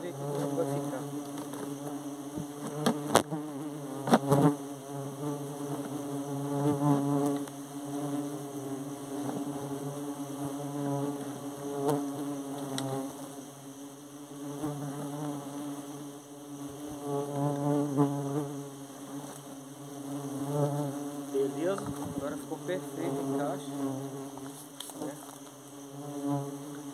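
Borá stingless bees (Tetragona clavipes) buzz steadily around a hive box during colony induction, a dense continuous drone swelling and easing over time, with a few close passes rising above the hum.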